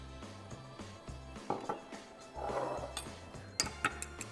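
Vanilla extract being mixed into egg yolks in a bowl, with a utensil scraping and clinking against the bowl in quiet rhythmic strokes and a few sharper taps near the end.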